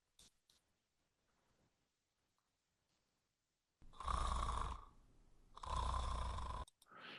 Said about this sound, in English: heavy snoring